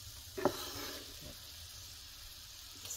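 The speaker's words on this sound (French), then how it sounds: "je vous remontre où en sont les petites patates avec le feu qui grésille bien" Potatoes and green beans sizzle in a pan over a wood fire, a soft steady frying hiss with one brief clack near the start and faint crackle throughout.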